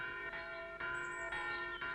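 School bell in an herb garden ringing in steady repeated strokes, about four clear metallic clangs in two seconds, each tone ringing on until the next strike.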